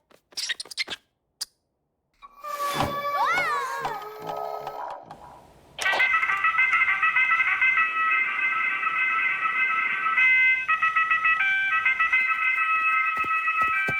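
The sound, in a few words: alarm clock ringing in a cartoon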